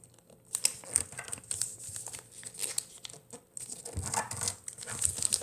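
Origami paper being folded into a swallow, giving close crisp crinkles and creases in irregular bursts, with short sharp rustles as the sheet is turned and pressed flat. No voices.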